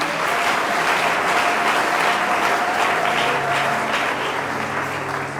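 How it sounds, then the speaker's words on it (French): A church congregation at a Sunday service applauds loudly and steadily, with dense clapping that goes on for the whole stretch and fades slightly at the end. "Applaudissons le Seigneur."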